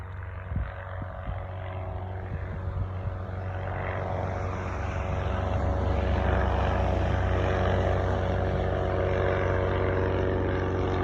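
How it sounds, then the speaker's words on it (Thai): A propeller airplane drones overhead above rural canola fields in Australia, a steady engine hum that grows louder as it approaches and holds near, with no voices. "เครื่องบินกำลังมาเลยค่ะ"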